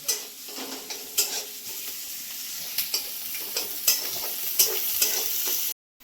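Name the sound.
frying chopped onions with sugar until red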